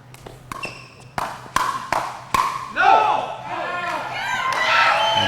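Spectators at a professional men's gold medal pickleball match break into cheering and clapping after a series of sharp paddle and ball pops, the crowd noise swelling and holding at a steady roar.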